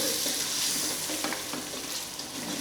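Masala for murgh choolay roasting and being stirred in a pan over a low flame, a steady close sizzle with soft scraping strokes and no voices.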